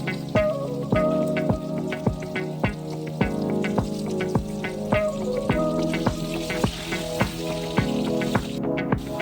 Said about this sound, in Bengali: অল্প করে হলুদ দিয়ে আমি আলুটা ভেজে নেব লাল করে